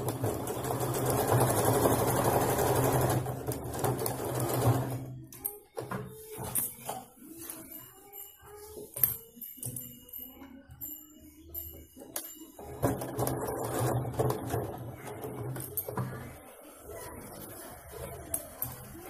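Sewing machine stitching a baby chaniya choli: bursts of fast mechanical whirring at the start and again near the end, with quieter stretches of scattered clicks and handling in between, no speech.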